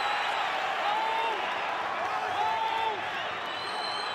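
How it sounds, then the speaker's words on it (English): A stadium crowd cheers at a Canberra Raiders versus Gold Coast Titans rugby league match at GIO Stadium, a broad, steady roar with scattered whistles and whoops that stays fairly loud throughout. "Well, that's given the fans here at GIO Stadium something to cheer about"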